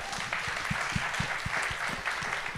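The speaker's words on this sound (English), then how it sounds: "y'all can give him a round of applause for that." An audience at a business talk on funding for diverse founders gives a round of applause, with dense, steady clapping from many hands throughout the short stretch.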